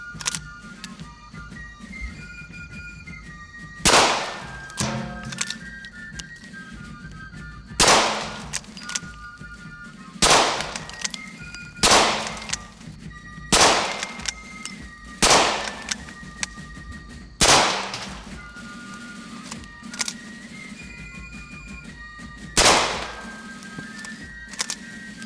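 Civil War infantry rifles fire nine loud, sharp single shots at irregular intervals of a few seconds, each report cracking out close and decaying quickly into a quiet outdoor background.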